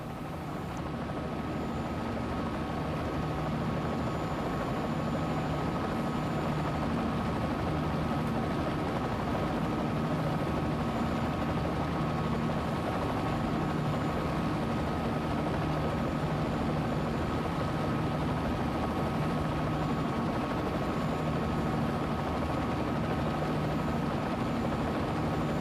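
Helicopter engine and rotor in a flight simulator game, during a steady descent with collective lowered: a continuous, even drone with a steady whine on top, unbroken for the whole stretch with no voices.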